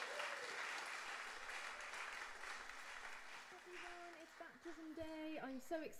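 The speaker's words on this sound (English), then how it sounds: "let's just give her a round of applause and encouragement now" A church congregation at a baptism service gives a candidate a round of applause, a moderate, fairly distant clatter of clapping that fades after a few seconds as a speaking voice takes over.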